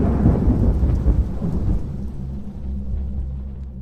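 Thunder rumbles loud and close over steady heavy rain, the deep roll strongest at first then easing into a continuous downpour with no voices.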